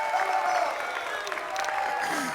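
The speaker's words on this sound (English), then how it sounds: "And now the crowd getting hyped up again." Crowd at an esports Counter-Strike tournament at DreamHack Masters Spring cheers and applauds in a steady, fairly distant roar, with a voice faintly heard over it.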